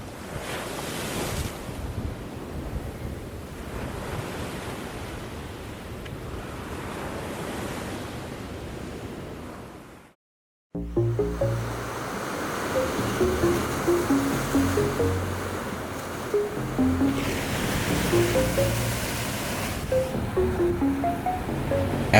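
Loud ocean surf and wind roll in continuously at Mermaid Cave on Oahu, with a brief drop to near silence midway before the crashing waves and spray return.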